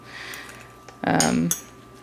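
A utensil mixes half a croissant with an egg and a splash of milk in a small dish, giving a brief scraping clatter against the container after quieter light clinks.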